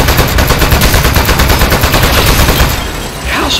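Rapid bursts of gunfire in the video game Aperture Desk Job, loud and continuous like automatic fire, tailing off near the end.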